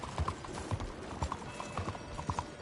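Horse hooves clip-clop at a steady walking rhythm, about two paired strikes per second, in the open-world Western game Red Dead Redemption 2, with a faint low rumble of ambience behind them.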